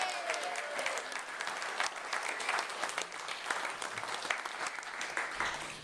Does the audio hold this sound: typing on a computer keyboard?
no